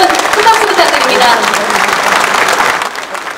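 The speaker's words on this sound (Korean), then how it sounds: "여러분, 큰 박수 부탁드립니다." An audience applauds at the Gwangju city and Hyundai Motor investment agreement signing for a car factory: sustained, dense clapping that fades slightly toward the end.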